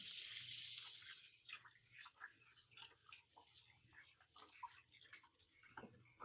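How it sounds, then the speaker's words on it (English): A kitchen tap runs into the sink at the start, then hands splash and rub under the water in short, uneven bursts, fairly close and moderately quiet. "Then I'm going to wash my hands"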